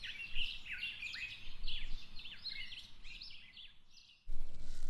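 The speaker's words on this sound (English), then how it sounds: "The songs of happy birds echo through the trees." Songbirds in woodland trees trade bright, rapid chirps and warbling phrases, close and clear over a quiet background, before a sudden low rumble of noise cuts in near the end.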